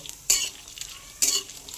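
Onion and garlic dry-frying without oil in a pan, heard as two loud bursts of stirring and sizzling scrapes, each short and sharp, with faint frying noise between them.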